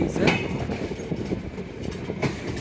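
A passenger train pulls out of Fulbari station on the Dinajpur–Dhaka route, its steady rumble and rattling carriages loud and continuous, with a brief brighter clatter near the start and end.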